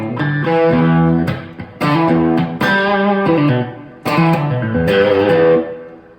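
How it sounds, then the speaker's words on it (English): Overdriven electric guitar plays chords and short phrases, each note trailed by a quick, soft repeat; loud and close with brief pauses. "just a quick light repeat. Kind of soft and put on overdrive."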